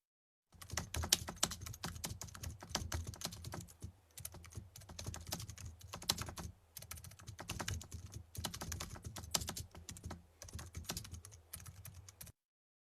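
Rapid, steady tapping on a phone keyboard, with dense clicks that continue almost without a break and a few short pauses. The tapping is close and fairly loud, with no talking.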